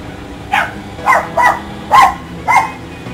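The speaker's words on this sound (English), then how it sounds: "Yep, dogs in the background." Dogs barking in the background, five separate sharp barks spaced about half a second apart, moderately distant with a quiet room tone between them.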